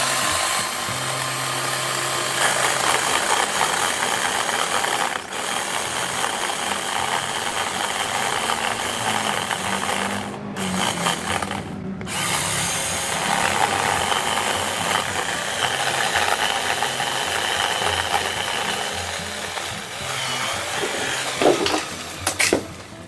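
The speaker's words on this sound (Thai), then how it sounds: "ต้นไม้ที่เกิดจากการตัดด้วยเลื่อยไฟฟ้าตัวนี้" OSUKA cordless electric pole saw cutting through a tree branch about three inches thick outdoors, a steady loud motor whine running almost continuously with brief dips, with no talking.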